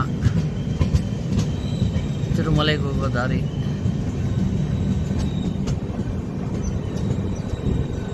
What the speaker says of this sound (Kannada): ನಮ್ಮ ಟ್ರೈನ್ ಹೋಗ್ತಾ ಇದೆ